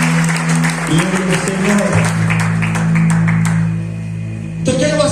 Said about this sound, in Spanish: aplauda a Jesús de Nazaret